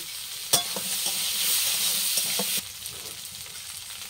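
Garlic and chili sizzle loudly in a hot pan while being stirred, a steady bright frying hiss broken by a few clinks and scrapes of the spoon.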